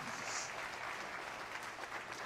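Audience applause for an honoree at a South Carolina African American history calendar unveiling ceremony, a faint, steady wash of clapping heard from a distance with no talk over it.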